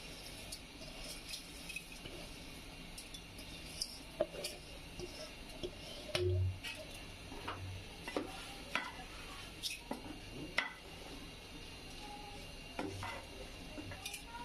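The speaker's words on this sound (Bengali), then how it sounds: "ডাল চাল একসাথে আমি কষিয়ে নিব মশলার সাথে।" Lentils and rice are stirred with spices in a pot for khichuri, giving soft, irregular scraping and clinking of a spoon against metal over a faint steady sizzle, close and fairly quiet.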